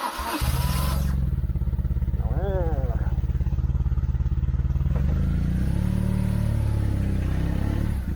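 A BMW R850C motorcycle pulls away onto the road, its engine a loud, steady close rumble that rises briefly while a rider speaks over it.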